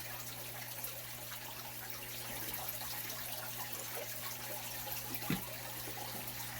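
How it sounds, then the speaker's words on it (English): Water pours steadily onto tomato and pepper seedlings in rotisserie chicken containers, a soft, even splashing hiss, fairly quiet and continuous, with one brief knock near the end. "Go ahead and water these guys in."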